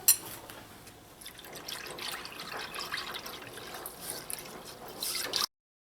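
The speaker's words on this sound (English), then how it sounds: "I just want to mix that powder milk in so that it dissolves." Powdered milk stirred into milk for paynuse, making a faint, continuous liquid swishing with small drips and clinks, close by and without talk, ending abruptly.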